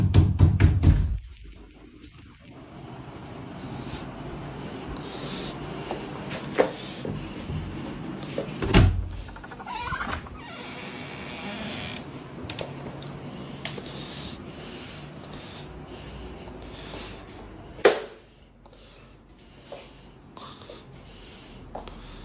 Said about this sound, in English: Mysterious knocking noises can be heard coming from somewhere inside of the house.